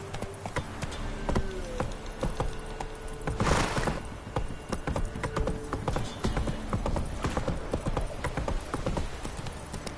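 Horse hooves clip-clop steadily in a PS4 video game, a close, rhythmic trot that runs throughout with a brief whoosh midway and faint ambient noise behind.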